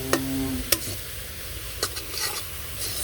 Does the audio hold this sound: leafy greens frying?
yes